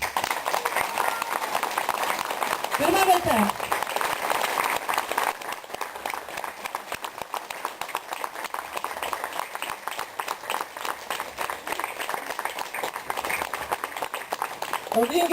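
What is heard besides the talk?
thunderous applause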